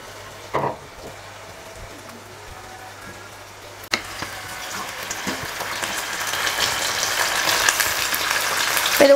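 Whole slit brinjals drop into hot oil in a pan, giving a sharp burst of sizzling. The frying then builds into a steady, broadening crackle that grows louder toward the end.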